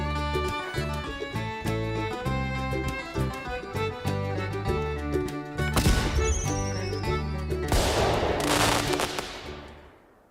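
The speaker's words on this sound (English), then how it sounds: "Let's give you fireworks. Let's give you the sound effects." A fireworks sound effect played during a crypto livestream, with dense bursts and crackles over layered tonal music throughout, loud and continuous, growing into bright crackling near the end before fading out.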